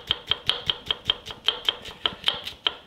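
Knife chopping a shallot on a cutting board, about fourteen crisp, evenly spaced taps in a quick steady rhythm, close and clear with no talking.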